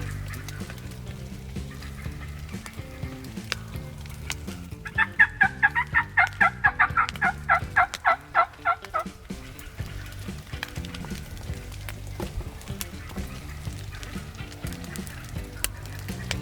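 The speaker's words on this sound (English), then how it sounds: "I really must have disturbed something in the flock of turkeys behind us." A flock of wild turkey hens calls from behind a hunter in a field, a burst of rapid, repeated clucks and yelps rising over a few seconds amid quieter rustling, fairly near and clear.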